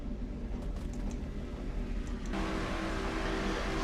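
Engine of the Mellow Yellow Pontiac race car in a racing video game, heard on board as a steady loud drone that swells in level partway through, with no talk.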